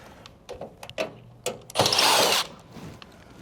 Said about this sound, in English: We're gonna take out these 2 screws.